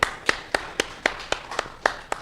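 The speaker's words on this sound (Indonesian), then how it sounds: "Tepuk tangan dulu buat kita." Sparse, slow hand claps, roughly ten distinct sharp claps at an even rhythm, close and fairly quiet, from a small audience at a breathing and wellness gathering, with no talking.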